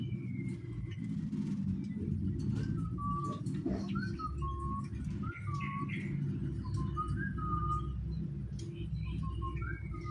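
A caged terucukan songbird above a bird bathing area sings short, bright whistled phrases over and over, over a constant low rumble of background traffic.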